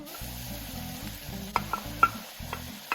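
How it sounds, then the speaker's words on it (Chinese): Ground beef and mushrooms stir-fried in a pan for a beef lasagna sauce, a steady close sizzle broken by sharp spatula clinks and scrapes against the pan at irregular intervals. "继续翻炒到蘑菇变软"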